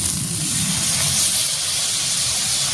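Spice paste goes into a hot pot of cooking potatoes and pumpkin stems for a light fish curry, giving a steady, close hiss of sizzling that holds evenly without a break.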